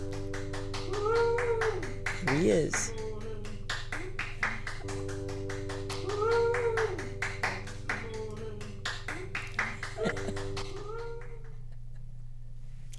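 Someone claps in another room, a steady run of crisp, evenly spaced claps that goes on and off for several seconds while a person talks over it.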